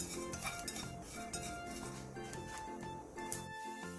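Cleaned dried anchovies stir-fried in a dry pot over low heat, a quiet, close clatter of small fish rattling and scraping against the pot, with light clinks and no speech.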